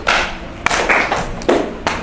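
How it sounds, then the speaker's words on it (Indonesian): A group of students in an Indonesian classroom claps together in a rhythm game. There are four separate sharp bursts of clapping, evenly spread, each close and loud against a quiet room. "Nah, kalau biri, teman-teman silakan tepuk."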